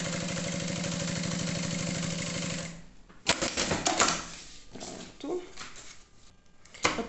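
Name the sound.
sewing machine stitching lining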